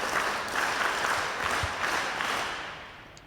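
A school audience claps together at a computer and robotics lab inauguration, a full burst of applause that holds steady and then gradually fades toward the end.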